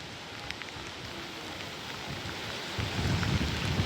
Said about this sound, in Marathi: मुंबईमध्ये देखील काल रात्रीपासूनच पावसाची संततधार सुरू असल्याचं दिसतंय